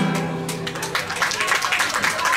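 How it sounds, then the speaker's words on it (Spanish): An audience at a commemorative community gathering applauds after a song, scattered clapping that builds into a steady patter, with fading music at the start. "Gracias por sus aplausos."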